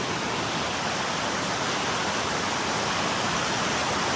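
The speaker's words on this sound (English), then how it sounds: "we had to walk down the path and it turned into a waterfall, which was very pretty" Water rushing down a mountain hiking path on the Tour du Mont Blanc in Switzerland like a waterfall, a loud, constant broadband roar up close with no voices.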